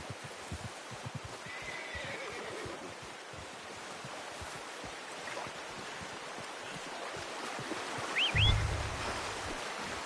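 A horse in the video game Red Dead Redemption 2 gives a short whinny near the end over a faint, steady outdoor ambience, with soft rustles and light movement earlier.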